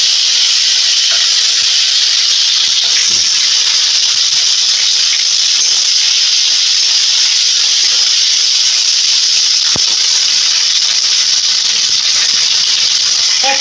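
A large amount of chopped tomato hisses and sizzles loudly and continuously in hot oil with whole garam masala spices, a steady, close frying sound with occasional faint clinks.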